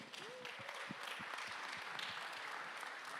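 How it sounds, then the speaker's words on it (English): Moderate applause from a hacking-conference audience greets the third-place winner on stage, mid-distance and fairly soft, with a few sharper individual claps and faint stray voices in the room. "Bring a round of applause"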